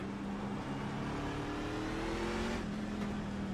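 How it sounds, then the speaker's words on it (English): A NASCAR truck engine in iRacing at the Long Beach street circuit pulls hard as it accelerates, its close, loud drone climbing steadily in pitch for a few seconds before shifting and continuing. "See how much power these trucks make"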